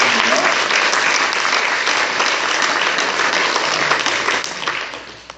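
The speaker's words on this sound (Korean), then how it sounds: "두 형제님께 박수 한번 주세요" A congregation at a Catholic Mass in a church applauds, loud dense clapping that continues steadily and then tapers off at the end.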